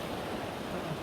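Continuous roar of sea waves on Dapoli beach in Ratnagiri, a steady close wash of surf with some wind noise, no voices.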